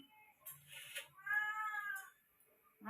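A cat meows close by, a couple of short calls followed by a longer drawn-out meow, in a quiet room.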